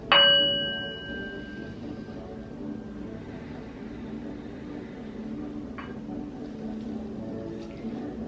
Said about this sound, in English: So as the gong rings, examine your reaction to the sound and its effect.